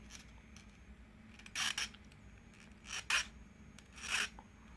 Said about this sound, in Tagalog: gagamit tayo muna ng mapinong liha ito pabibilugin natin siya ng konti